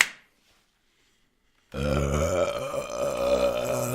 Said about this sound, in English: You stop with the burps.